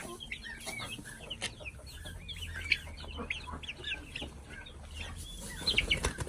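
Crossbred and native chicks, about one and a half months old, keep up a steady chatter of soft clucks and high chirps, with a louder burst of peeping near the end.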